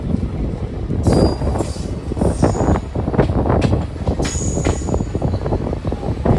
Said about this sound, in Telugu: ట్రైన్ వచ్చేసి ఒంగోలుకి వచ్చింది బయలుదేరిపోయింది